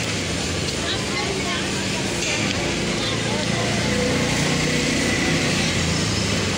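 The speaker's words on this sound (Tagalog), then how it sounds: "Diba, ang daming motor." Many motorbikes pass along a busy city street near a barangay hall, a dense, continuous engine drone that stays loud throughout, with voices faintly underneath.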